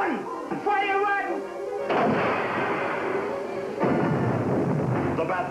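A weapon fires from the secret submarine in the Batman TV series, a burst of booming blasts followed by heavy rumbling explosions, with dramatic voices over the noise.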